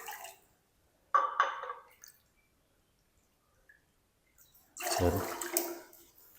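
Water poured from a bowl into a pan for semolina (suji) halwa, three bowlfuls in all, with two short splashy pours separated by a pause.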